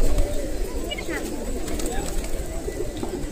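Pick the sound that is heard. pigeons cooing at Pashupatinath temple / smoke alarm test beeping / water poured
pigeons cooing at Pashupatinath temple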